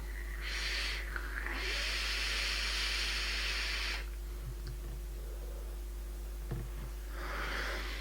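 An e-cigarette with a Yu Jakiro dripper vaping 100% VG liquid exhales long, steady breathy hisses of vapor, two to three drawn-out puffs over a low constant hum, close and quiet with no talking.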